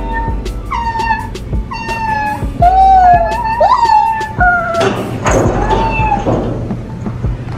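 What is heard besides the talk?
cats meowing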